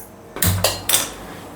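A metal cooking pot set down for zero-oil chicken biryani, three quick clanking knocks on the stovetop in close succession, close and fairly loud, followed by a short ringing decay.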